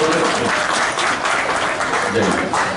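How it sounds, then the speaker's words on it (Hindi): Steady applause from a crowd at a function hall fills the whole stretch, dense and even, with a faint voice murmuring underneath. "तालियां बजाइए मासूम बच्चे के लिए।"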